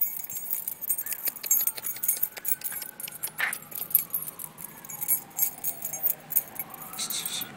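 Metal keys jangle and clink in bursts as a cat plays with them, close by, with light rattling and a few brighter chimes against a quiet outdoor background.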